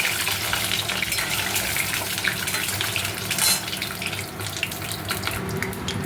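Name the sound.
eggs frying in oil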